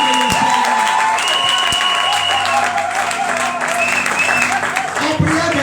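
Congregation at a church service applauding and cheering, a loud sustained wash of clapping mixed with crowd voices and music tones running underneath.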